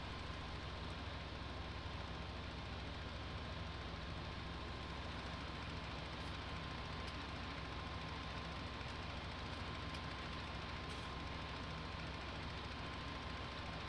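A tractor pulling a manure spreader at crawling speed in Farming Simulator 19, a steady dense engine drone with a constant hum and no change in pitch throughout.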